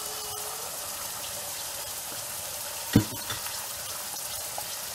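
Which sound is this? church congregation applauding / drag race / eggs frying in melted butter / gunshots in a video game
eggs frying in melted butter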